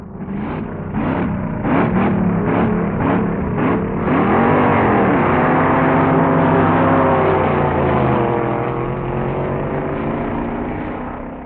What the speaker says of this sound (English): Pete's up to the line now, winding up that Chevy Mill